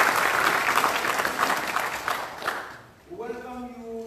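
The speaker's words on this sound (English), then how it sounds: "Can we applaud?" At a Presbyterian seminary authorization ceremony in Kumba, an audience breaks into full, dense applause for the newly re-elected church moderator, then the clapping fades as a voice begins speaking.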